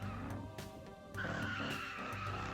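A car drifting in an empty spot out in the middle of nowhere: loud sustained tire squeal and skidding over a revving engine, with a sharp break in the sound partway through, then the screeching resumes.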